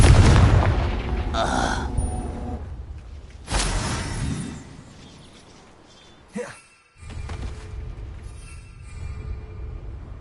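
Confringo blasting spells in Hogwarts Legacy burst into loud booming explosions with shattering debris, one heavy blast at the start and another a few seconds later, each trailing off into a rumbling decay.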